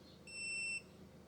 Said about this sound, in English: We have audible beeps as we press the buttons.